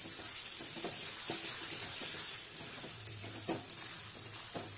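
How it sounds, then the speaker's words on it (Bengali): Chicken frying in oil in a pan on medium flame, with a steady close sizzle and a few brief scraping stirs near the end. "কিছুক্ষণ ঢাকা দিয়ে রেখেছিলাম, এরপর নেড়ে দিলাম"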